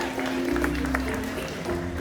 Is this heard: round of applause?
yes